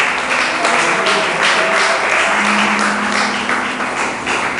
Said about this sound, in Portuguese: Pode louvar a Deus com mais palmas